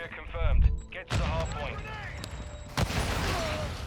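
Gunfire and explosions in the Modern Warfare 2 video game come as sharp bursts, with one sudden blast about a second in and another near three seconds, and a voice talks over most of it.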